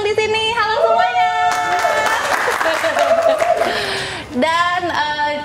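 An audience claps at a live Indonesian robotics and AI talk event with Robopark Indonesia: a dense, steady wash of applause swells through the middle of the clip beneath bright, sustained music, which carries on before and after it.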